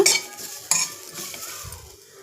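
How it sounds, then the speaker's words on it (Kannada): Grated coconut dry roasted in a kadai for an Andhra-style country chicken gravy, stirred with close, scraping strokes and a couple of sharp clinks of the spatula against the pan, with no talking. "ಈ ತೆಂಗಿನ ತುರಿನೂ ಅಷ್ಟೇ ಹಾಗೆ ಡ್ರೈ ರೋಸ್ಟ್ ಮಾಡ್ಕೊಳ್ಳಿ ನೋಡಿ ಈ ಥರ"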